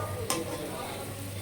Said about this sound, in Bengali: বড়াগুলো ভাজা হয়ে এসছে